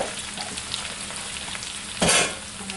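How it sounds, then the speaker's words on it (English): Sweet Italian sausage is dumped into a hot pan, with a steady sizzle and frying crackle and one louder burst of hissing and clatter as the meat lands. "Dump this right in. This is the sweet Italian sausage."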